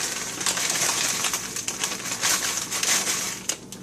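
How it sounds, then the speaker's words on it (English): Frozen green beans tumble into a cooking pan holding a little water, giving a run of close, crisp rattling clatters and light crunching taps. "And then just add the green beans."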